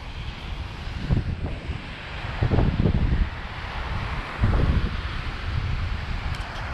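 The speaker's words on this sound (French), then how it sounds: "c'est con qu'il y a pas mal de vent" Coastal wind at Pointe des Châteaux in Guadeloupe, buffeting the microphone in low rumbling gusts that swell and ease several times over a constant airy roar, with no one talking.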